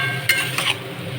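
Jackfruit seeds and taro stolons frying slowly in a little oil over a low flame, a steady soft sizzle with a couple of brief stirring scrapes near the start and middle.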